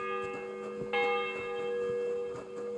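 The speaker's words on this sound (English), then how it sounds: "The bell's ringing for hands the 5th time." A church bell tolls inside the medieval world of Kingdom Come: Deliverance II, one clear ringing strike sounding near the one-second mark over a lingering hum, with fainter ticking beneath and no speech.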